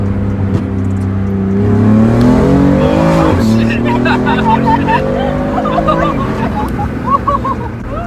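BMW F80 M3 running E30 flex fuel accelerating hard from inside the cabin, a loud engine note climbing through gears with a shift dip midway, then fading as the car slows, with brief voices.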